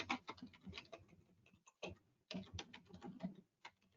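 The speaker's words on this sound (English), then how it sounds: "I'm preparing to type and talk at the same time." Quick clattering keystrokes on a computer keyboard arrive in short irregular bursts with brief pauses between, close and fairly quiet, with no talking over them.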